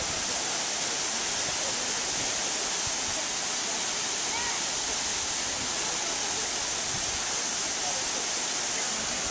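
Waimea Falls waterfall pouring into its pool, a loud, constant, dense hiss of falling water that fills the whole stretch evenly.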